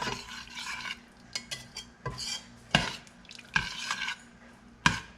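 Bourbon barbecue sauce for oven-baked ribs being stirred in a pot, with a faint bubbling sizzle beneath intermittent scrapes and clinks of a utensil against the pot, close up.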